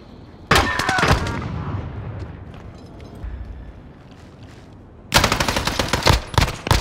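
A 9mm AUG fires in Modern Warfare Search and Destroy, with loud rapid bursts of automatic fire at the start and again at the end, separated by quieter game ambience.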